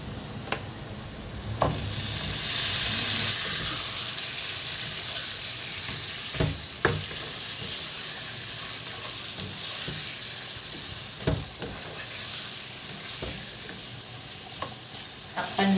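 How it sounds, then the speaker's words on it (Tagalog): Chicken pieces sizzle and fry in a pan with garlic and onion, a steady close hiss with occasional stirring clatters and scrapes throughout. "Yan, ilagay na rin natin yung ating manok."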